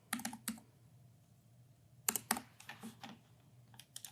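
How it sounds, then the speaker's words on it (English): Keys clatter on a computer keyboard in quick bursts of typing, a close, quiet clicking with a short pause between the opening and later flurries of keystrokes. "Type that in."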